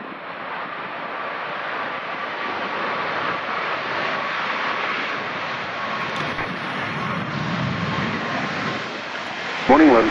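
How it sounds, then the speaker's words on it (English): A jet airliner at Vancouver airport gives a loud, steady engine roar that holds for the whole stretch, with a brief louder burst at the end. "clear takeoff runway 26 left"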